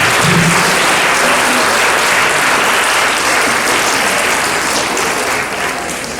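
An audience at a graduation ceremony applauds in a dense, steady burst of clapping that stays loud throughout and eases off slightly at the end, with no speech over it.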